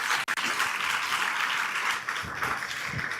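An audience at an institute event breaks into applause, a dense, steady roar of many hands clapping that carries on throughout.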